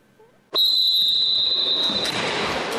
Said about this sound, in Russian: Свистком судья дает старт завершающему матчу.